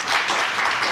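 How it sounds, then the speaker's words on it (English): A brief burst of dense, lively applause from an audience at a young changemakers showcase, many hands clapping together in a short, even roar. "please give it up, a round of applause for Abby."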